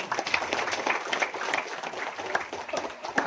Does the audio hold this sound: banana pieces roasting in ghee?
no